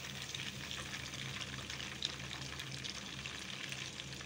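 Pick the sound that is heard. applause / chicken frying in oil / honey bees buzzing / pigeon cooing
chicken frying in oil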